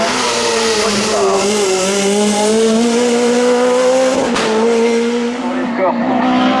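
Peugeot 208 race car at a hill climb in Tonnerre, its engine revving loudly and continuously with rising and falling pitch through gear changes, under a voice speaking.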